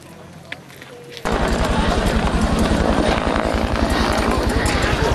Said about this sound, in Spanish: Tirando gases desde el helicóptero.